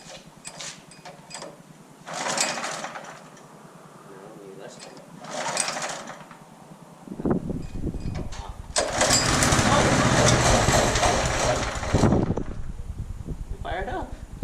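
A small gasoline engine with fresh oil and the choke fully on sputters through a start attempt, catches and settles into a loud, steady running drone, with people talking before it fires up.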